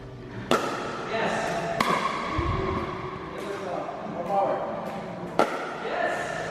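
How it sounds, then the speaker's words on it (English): A basketball bounces on a neighbouring court beside an outdoor pickleball setting in Iloilo, giving several sharp, spaced thumps at an irregular rhythm over a steady background bed. "There's the basketball next door."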